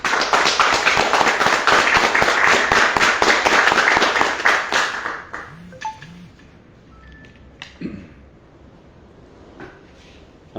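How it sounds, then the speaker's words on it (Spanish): Audience applause at a press conference marking 100 years of Huancho Lima and one year since the Juliaca massacre: dense, steady clapping for about five seconds, then it fades to scattered claps and quiet room noise. "Un voto de aplausos, hermanos."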